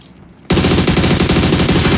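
Sudden burst of rapid automatic gunfire in a video game, loud and close, a dense stream of shots starting abruptly and continuing without break.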